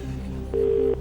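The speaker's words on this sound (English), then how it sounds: "we'll phone Pete, tell him the question" A telephone being dialed on the Who Wants to Be a Millionaire studio set, with a low hum giving way to a single steady dial or ringing tone for about half a second, alone with no talk.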